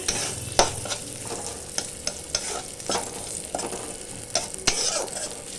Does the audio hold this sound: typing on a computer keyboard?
no